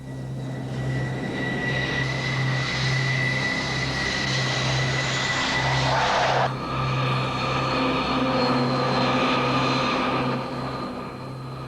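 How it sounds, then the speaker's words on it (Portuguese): A loud McDonnell Douglas F/A-18 Hornet jet fighter engine roars steadily nearby, with a whining high tone that shifts pitch midway before settling back into a constant drone. "O versátil McDonnell Douglas FA-18 Hornet é hoje a mais importante aeronave de assalto da frota americana"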